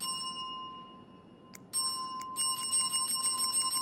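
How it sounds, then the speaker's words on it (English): A bell rung in the video game This Bed We Made, set in a hotel: a few bright metallic dings with sustained ringing overtones, close and clear over a faint hum, with no talking. "Can we ring the bell?"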